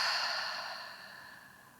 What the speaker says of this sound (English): let's all take a deep breath in through the nose. And exhale through the mouth